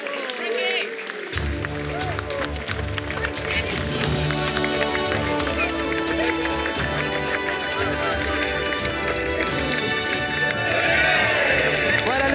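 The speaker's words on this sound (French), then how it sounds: "On peut l'applaudir, Lanfranco Dettori." Crowd applause and cheering for race winner Lanfranco Dettori at Deauville after the Prix Quincy Barrière, steady clapping that starts abruptly and carries on throughout, with a French announcer talking over it.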